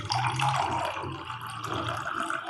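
Water pours steadily into a sweet strawberry-lemon drink mixture, a continuous close splashing trickle running alone throughout.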